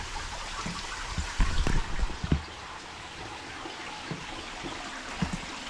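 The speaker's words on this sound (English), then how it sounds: "steadily running stream in here" Steadily running stream among old mining ruins in New Zealand, a soft continuous trickle and babble of water close by, with a few brief louder splashes and knocks partway through.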